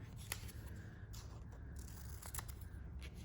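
Scissors cut paper into separate word strips, giving a few short, crisp snips spread over a few seconds against a low room hum, with no talking.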